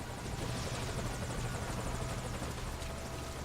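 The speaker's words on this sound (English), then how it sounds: "So who that helicopter is making enough fucking noise?" Helicopter rotor thudding steadily in the game Metal Gear Solid V: Ground Zeroes, a continuous chopping drone heard alone at moderate distance for several seconds.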